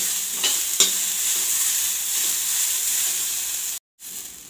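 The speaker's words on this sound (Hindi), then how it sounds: "गाजर को चलाते हुए बराबर इसे भुना, ताकि हमारा नीचे लगने न पाए।" Grated carrots stirred and roasted in a pan for barfi give a steady, close sizzle and frying hiss, with a few scraping stirs near the start and a brief break near the end.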